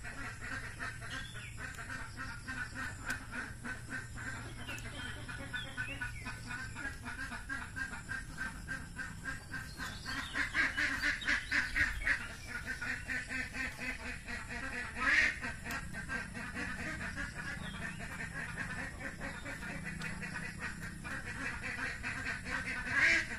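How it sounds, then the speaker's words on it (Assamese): Domestic ducks quack and call loudly and almost nonstop at close range, a dense chorus of repeated honking quacks that swells into louder bursts partway through. "মোৰ মাত শুনিলে হাঁহকেইটা চিঞৰিবলৈ ধৰে"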